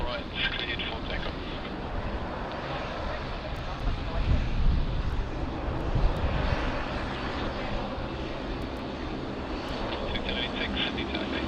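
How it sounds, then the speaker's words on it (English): An airliner's engines roar as it takes off from runway 16 right at Sydney Airport, a broad, steady, loud rumble with wind buffeting that holds throughout, plus faint ticks up high. "runway 16 right, cleared for takeoff"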